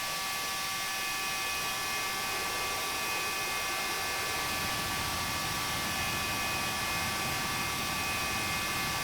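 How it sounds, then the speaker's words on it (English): A steady, continuous jet engine roar of a C-101 Aviojet training aircraft in the DCS World flight simulator, with a high whine on top, holding an even loudness throughout with no talking. "Has a unique sound to the jet,"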